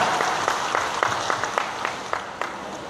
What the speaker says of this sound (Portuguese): uma salva de palmas aos nossos ministros